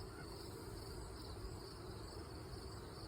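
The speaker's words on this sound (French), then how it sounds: "Ça, c'est les abeilles." A steady, dense buzz of honeybees at an open hive hums throughout, fairly faint and even, with no voices.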